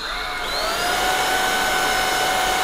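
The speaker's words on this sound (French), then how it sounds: "Lui, il est énervant, lui, quand Charlotte elle passe l'aspirateur" A household vacuum cleaner runs steadily and loudly nearby, its motor whine climbing slightly in pitch early on before settling into a constant, airy drone, with no voices.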